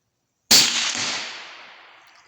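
A single sharp gunshot from a rifle fitted with an optic sight cracks out close and loud after silence, then fades in a long outdoor echo.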